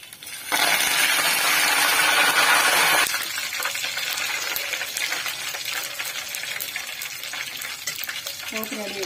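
Garlic tempering in hot oil for grated mango pickle bursts into a loud hissing sizzle for a few seconds, then settles into a quieter crackling fry with small clinks of a utensil.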